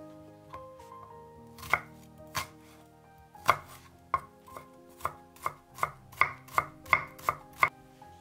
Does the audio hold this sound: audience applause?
no